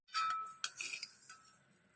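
Black urad dal and rice dry roasting in a pan, with light clinks and scraping of grains and utensil against the metal, a few sharper taps standing out over a steady dry rustle.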